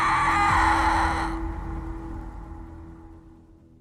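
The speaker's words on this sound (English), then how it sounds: "began with a terrifying, blood-curdling scream." A loud, piercing scream sound effect that opens a Halloween horror scene, sustained for over a second and then trailing off into a fading echo.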